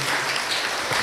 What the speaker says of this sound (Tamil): கைத்தட்டி நம்முடைய வாழ்த்தை பாராட்டை தெரிவித்துக் கொள்வோம்